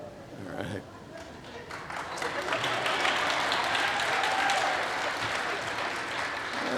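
A church congregation breaks into applause during a pastor's talk. Scattered claps at first swell into a steady, full round of clapping that holds to the end.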